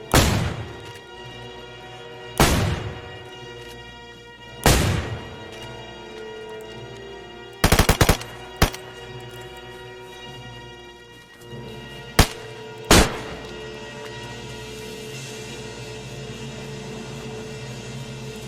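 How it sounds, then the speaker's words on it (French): Six loud shotgun blasts in a violent confrontation, each a sharp broadband crack with a rumbling tail, spaced irregularly with two close pairs, over a low sustained musical drone. "Quand on a esquivé 6 tirs de fusil à pompe d'affilée"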